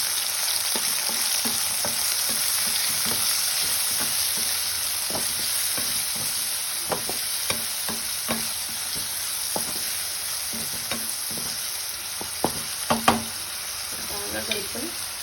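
Long-sliced onions with curry leaves and salt stir-fry in a pan with a loud, constant sizzle. Frequent scraping taps from the stirring spoon grow busier toward the end, and no one talks.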